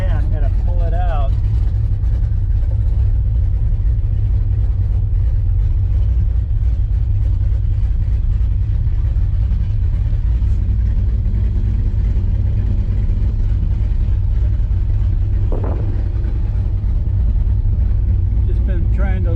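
A Chevrolet El Camino engine idles while warming up, a steady low rumble that holds evenly throughout, with faint voices and small background sounds over it.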